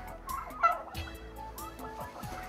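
A turkey gobbling in short rapid bursts, a few close calls repeated over a couple of seconds with quiet gaps between, no talk.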